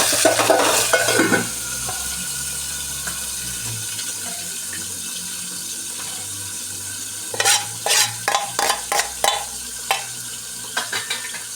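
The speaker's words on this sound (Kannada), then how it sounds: "ಮತ್ತು ಒಂದು ಸ್ವಲ್ಪ ಒಗ್ಗರಣೆಗೆ ಟೊಮೆಟೊ ಹಾಕೊಂಡ್ಬಿಡ್ತೀನಿ" Tomato dropped into a hot tempering of garlic and curry leaves, a bright sizzle at first that settles into a low hiss, then a run of scraping stirs near the end, with no voices.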